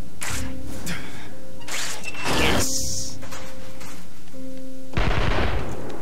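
Bursts of rapid gunfire crackle in The Amazing Spider-Man game, several sharp loud volleys separated by short pauses amid mechanical hum, with no talking.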